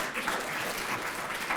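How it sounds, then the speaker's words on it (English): Audience applause at the 2023 Economic Impact Breakfast, a steady wash of many hands clapping at even loudness for a short stretch, with no voices over it. "please stand forward as well to give a round of applause"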